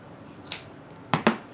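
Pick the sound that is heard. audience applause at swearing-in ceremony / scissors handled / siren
scissors handled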